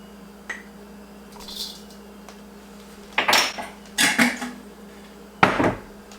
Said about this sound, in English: So I'm just going to go ahead and mix all of these dry ingredients